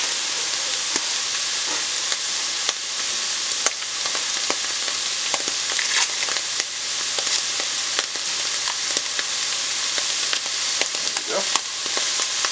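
Two tablespoons of salted butter melt and sizzle in a pan for a creamy mushroom soup, a steady close crackle broken by sharp stirring clicks, with a short spoken remark.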